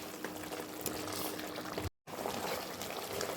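Mutton sautéing with spices in a pot for biryani gives a continuous bubbling, sizzling wet texture, close and fairly steady, broken by one brief moment of silence.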